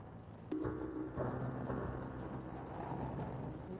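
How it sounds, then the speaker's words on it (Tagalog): Rain falls during a ride on a Honda Wave motorcycle, heard as a steady broadband wash of rain and wind noise with a sharp knock near the start, and no talking. "Hinata tayo ng ulan na rin."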